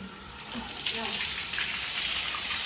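Water runs steadily from a tap in a continuous, full hiss, with a faint voice briefly audible underneath.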